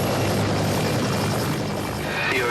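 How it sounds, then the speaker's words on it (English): A rescue helicopter flies over a storm at sea. Its rotors and engine make a loud, close, continuous roaring drone that holds steady throughout, with no speech. "The rescue helicopter has spotted the Cheval de Mer."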